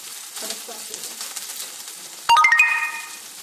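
Onions hit hot olive oil in a pan for Syrian-Lebanese rice, giving a steady bright sizzling hiss. About two-thirds through, a loud, sharp ringing tone cuts in over the frying.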